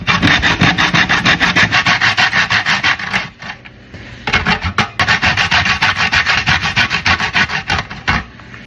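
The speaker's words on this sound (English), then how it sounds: "Some people like to just boil the balls like that, but I prefer to just grate mine" Jamaican chocolate balls grated by hand in a kitchen, a steady run of close, loud rhythmic rasping strokes that pause briefly midway and then resume, with no voices.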